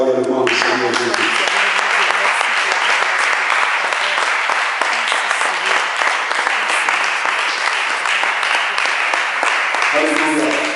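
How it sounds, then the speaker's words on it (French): A church congregation applauds and cheers for Jesus during a French-language sermon: dense, steady clapping and cheering at full volume for about ten seconds, with a voice briefly heard at the start and end. "Je voudrais que nous acclamons royalement le Seigneur Jésus."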